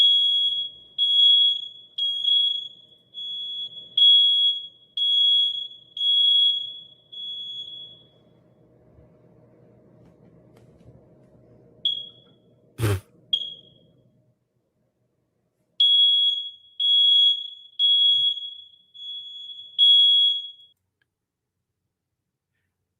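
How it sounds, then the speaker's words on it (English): A smoke alarm with a low battery gives repeated shrill high-pitched beeps in bursts, then a loud single thump and more clusters of beeps after a pause, with faint low background noise between. "apparently is changing the battery for her smoke alarm, but she's struggling"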